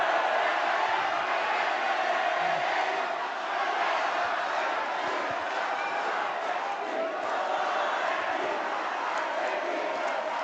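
An audience at a West Java gubernatorial candidates' debate roars with loud, sustained applause and chanting, a dense crowd noise that stays steady throughout.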